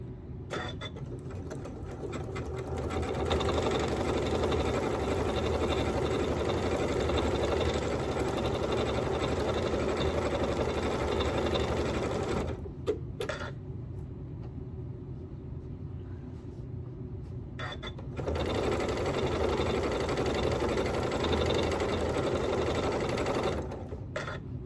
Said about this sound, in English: I have my serpentine stitch set, and I am going to just stitch straight down the middle right now